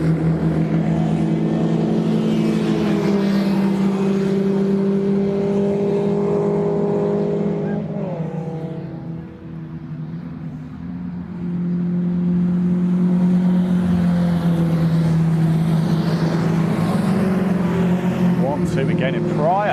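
Historic 750 Formula race cars on a circuit give a loud, sustained engine drone that rises and falls as they pass, with a brief dip midway, under continuous commentary.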